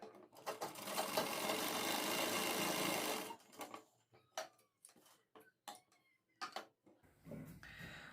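A sewing machine stitches across a kurti collar neck in a loud, fast, continuous whirring burst of about three seconds, then falls to scattered clicks and handling taps of fabric nearby.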